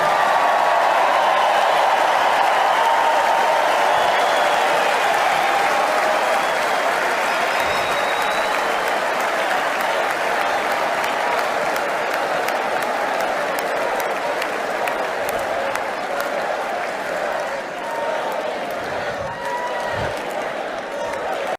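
A crowd at a Republican National Convention rally applauds and cheers in a dense, sustained roar from a large hall, steady and loud throughout with chanting voices woven in.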